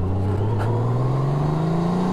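A 2022 Honda Goldwing motorcycle engine revs steadily with a deep, throaty drone that climbs slowly in pitch as it accelerates, loud and close, with no voices over it.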